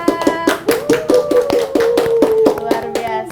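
A studio team applauding in a podcast studio, with close, steady, rhythmic hand claps and a sustained tone beneath.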